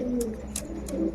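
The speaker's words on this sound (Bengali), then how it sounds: "আর নরের ডাক দেখো" A male tournament pigeon brought from Punjab coos in low, steady murmurs close by, with faint brief chirpy accents over the soft cooing.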